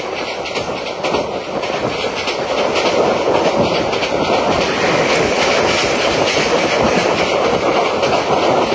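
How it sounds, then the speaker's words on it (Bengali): A Noakhali Express passenger train overtakes on the adjacent track, a loud continuous rumble of rolling wagons with rhythmic clickety-clack building and staying strong, with no talk over it. "এই মাত্র আমাদের ওভারটেক করে গেল নোয়াখালী অভিমুখী নোয়াখালী এক্সপ্রেস"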